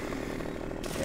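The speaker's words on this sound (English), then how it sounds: "If you use the chainsaw next to them" A chainsaw cuts fir tree branches in the Farming Simulator logging game, a continuous buzzing drone that stays steady and close across the short stretch.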